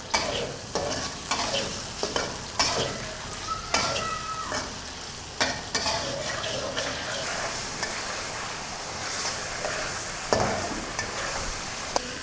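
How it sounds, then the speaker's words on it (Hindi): Boneless chicken for karahi sizzles in hot oil and is stirred in the pan, with a constant loud frying hiss and sharp scraping clinks from the spoon at irregular moments. "चिकन को ऑयल में इतना फ्राई करना है कि इसका कलर चेंज हो जाए।"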